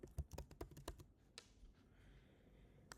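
Quick keystrokes on a computer keyboard, a fast burst of crisp clicks close up, then a pause and a single final tap, with no voices.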